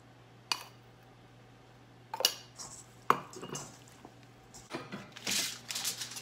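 Chicken wings tossed by hand in a dish with flour and seasoning: scattered clinks against the dish and soft rustling, squishy mixing sounds that grow busier toward the end.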